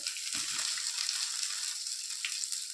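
Curry leaves, chopped coriander and about ten mint leaves frying in hot oil in a pan for a homemade chicken curry, a steady close sizzle throughout with a brief stirring clatter near the start.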